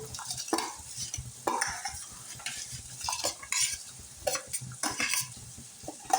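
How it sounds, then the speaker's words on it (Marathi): Rice for veg biryani is stirred in a pot of boiling water, giving repeated scraping and clinking strokes of a spoon against the vessel over a soft bubbling background, without speech. "पानी ला उभी आलेली आहे आता हा आपण तांदूळ घालूया"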